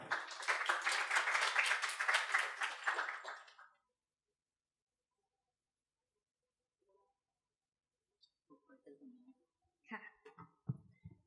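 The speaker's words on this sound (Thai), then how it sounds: "ขอเสียงปรบมือครับ" A burst of dense clapping for about three and a half seconds, then quiet with a few scattered thuds and shuffles.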